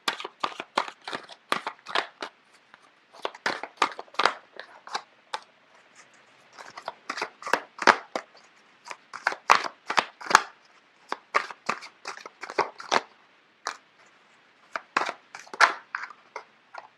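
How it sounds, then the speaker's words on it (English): Tarot cards being shuffled and flipped, a steady run of crisp papery snaps and riffles in irregular bursts with short pauses, close and moderately loud, with no voices. "I don't know why the cards are just flipping left and right."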